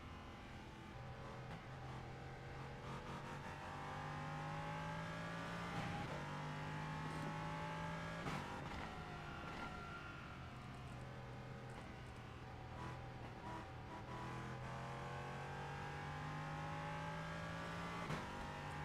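A BMW GT3 race car's engine in the iRacing simulator at Watkins Glen, revving hard and rising and falling through the gears. The steady, loud exhaust note continues without pause, with no talk over it.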